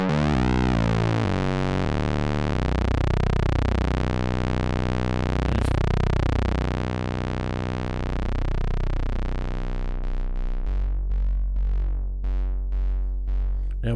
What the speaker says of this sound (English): Now we're getting a bass sound.